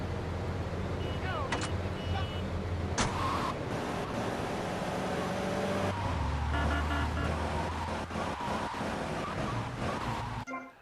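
A car in Grand Theft Auto Vice City drives with a steady engine drone, shifting pitch partway through, and sharp clicks and knocks scattered throughout. A voice talks over it.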